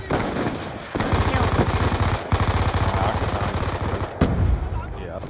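Sustained rapid automatic gunfire in a video game shooter, loud and continuous with brief breaks, close and dense throughout.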